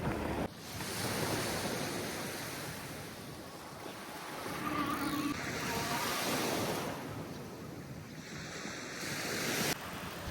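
Surf and wind noise on a beach while riding a REVR V5 off-road e-bike over sand and rocks, a steady broad rush of waves with heavy wind buffeting across the microphone throughout.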